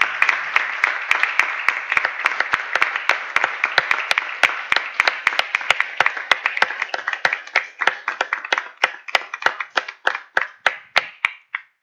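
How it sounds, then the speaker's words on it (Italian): Audience applause at a technology conference opening, with loud sharp individual claps standing out over a broad wash of clapping that thins toward the end into scattered hands. "un forte applauso per PEPS"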